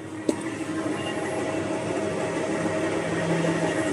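An automatic 3-ply face mask making machine runs with a steady mechanical hum and whir, with one sharp click near the start.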